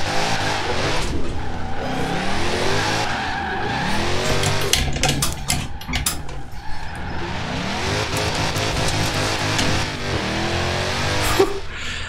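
A car drifts in Forza Horizon 4 on standard tires, its engine revving hard over continuous tire squeal and skidding, loud and sustained with shifting pitch as the car slides through corners.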